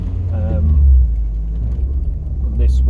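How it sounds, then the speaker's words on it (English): A Peugeot 306 Convertible fitted with an aftermarket filter and exhaust revs, its deep engine and exhaust rumble holding steady and swelling slightly near the start, with a voice briefly over it. "This one with the filter and the exhaust sounds a bit like that."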